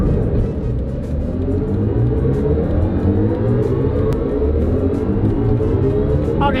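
A 2024 BMW i5 M60 electric sedan accelerates hard from a standstill, heard from inside as a loud, steady low road rumble and rising whir throughout, with no talk.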